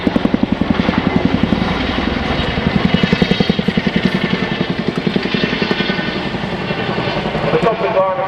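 A tandem rotor helicopter flies a display routine at RIAT 2015, its rapid rhythmic blade chop loud and steady throughout, with a commentator's voice over the public address running beneath.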